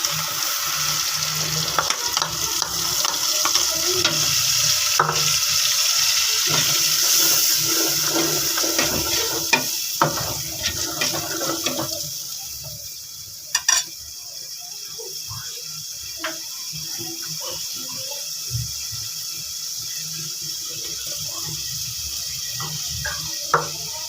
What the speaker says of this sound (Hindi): अब इसमें मैं टमाटर और दही का पेस्ट ऐड कर रही हूँ।